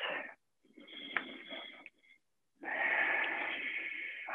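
Heavy nasal breathing during vinyasa handstand practice, with a strong exhale, a pause, a quieter wheezy inhale, then another long forceful breath, close and alone.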